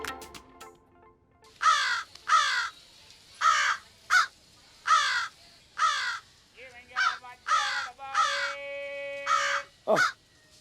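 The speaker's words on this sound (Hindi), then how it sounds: "कौन सी आवाज ज्यादा मधुर है पापा, वो कौवे की या डब्बा बाटली वाला की?" A crow caws repeatedly, about a dozen harsh calls in an uneven rhythm, loud and close, with a sustained tonal hum in the background near the end.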